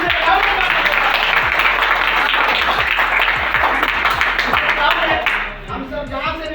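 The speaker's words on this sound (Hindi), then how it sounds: "साफ ताली भी बजाओ तो दिल से बजाओ।" An audience claps and applauds steadily at a Hindi-language business seminar during Navratri, a dense even wash of hands that fades near the end, with a voice talking over it.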